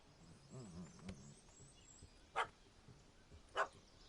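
In The Witcher, a dog barks at a cat up a tree: two short, sharp, faint barks spaced about a second apart, over quiet ambience and a brief low voice early on.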